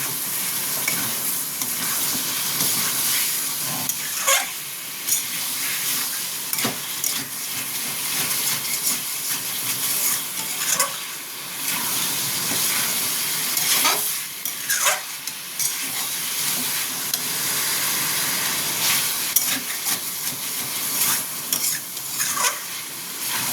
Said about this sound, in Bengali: ফুটিটা দিয়ে ভালো মতন এটাকে কষবো আমি